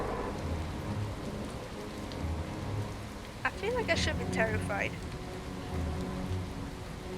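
Steady rain pattering and distant rumbling thunder from a thunderstorm in the game Far From Noise, heard from inside a car, with someone speaking briefly midway over the storm.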